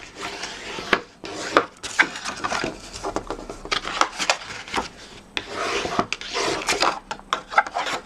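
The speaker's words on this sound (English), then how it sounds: "I'm going to bring in my bone folder and sharpen up these creases" Bone folder rubbed firmly along scored cardstock creases, a series of close, scratchy rasping strokes in short bursts with brief pauses between them.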